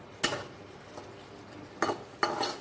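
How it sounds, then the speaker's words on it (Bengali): Fried fritters are stirred into a bitter gourd curry with a spoon, giving a few quiet, sharp clinks and scrapes against the pan with short pauses between them. "বড়া ভাজাগুলো একটু জাস্ট মিলিয়ে দিলাম এর সাথে"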